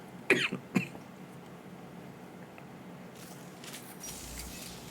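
Two or three sharp coughs close up in the first second, then quiet room noise with a faint hiss later.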